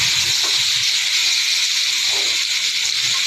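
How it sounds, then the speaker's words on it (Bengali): A nonstick wok with ghee being stirred makes a steady, loud hiss that runs throughout, with a few soft scraping knocks underneath. "তো এই হচ্ছে আমি নাড়ছি।"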